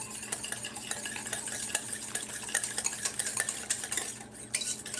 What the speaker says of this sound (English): now I'm going to give this a whisk with my new mini whisk